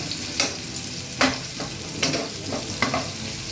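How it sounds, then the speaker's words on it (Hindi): Mixed vegetables fry in a hot pan for a quick sabzi, a constant sizzle broken by about five sharp stirring scrapes at a steady, uneven rhythm, close and fairly loud with no voices. "ये देखिए, ये फ्राई हो रही हैं"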